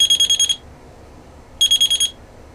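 E.Probe E-Field EMF detector alarm going off in two bursts of rapid high-pitched electronic beeps, about five pulses each, close and clear with quiet between.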